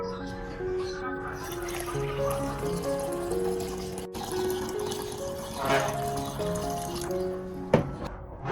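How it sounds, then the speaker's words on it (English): Clean filtered water is poured into lemon juice and stirred to mix a diluted orchid-care solution, giving soft splashing and trickling liquid sounds over steady background music. "Next, I add 1 liter of clean filtered water and stir well to completely dissolve the lemon juice."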